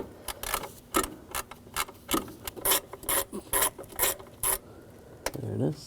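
A ratchet with a T30 socket turns a loose bolt out on a 2007–2013 BMW 328i 3.0L inline-six during crankshaft position sensor work, giving a quick series of sharp clicking strokes close by.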